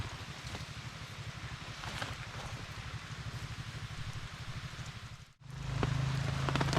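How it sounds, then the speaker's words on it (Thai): Rain patters steadily on a surface at a fishing spot, dense drops throughout, with a brief dropout before it resumes heavier near the end. "ฝนตกนะ"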